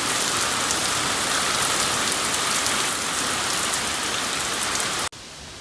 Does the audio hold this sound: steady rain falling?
yes